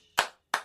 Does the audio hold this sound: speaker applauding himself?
yes